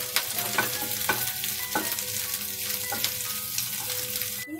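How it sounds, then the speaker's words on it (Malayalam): Green chilli and garlic frying with onions in a pan for pav bhaji, stirred with a spoon that scrapes and clicks every second or so over a constant close sizzle, no voices. "ഇനി ഇതിലോട്ട് നമ്മൾ അരിഞ്ഞു വെച്ച പച്ചമുളകും അതേപോലെ തന്നെ വെളുത്തുള്ളിയും ആഡ് ചെയ്യാം. എന്നിട്ട് നല്ലപോലെ ഒന്ന് ഇളക്കി കൊടുക്കാം."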